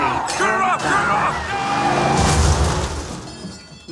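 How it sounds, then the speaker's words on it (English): A car crashes in an animated racing simulation from the Cars 3 trailer, a loud smashing, shattering impact with engine noise and voices mixed in. "You have crashed."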